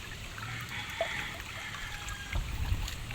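Water trickles and flows along a small rural irrigation canal, a soft, steady gurgle with light splashes, heard alone outdoors at low volume.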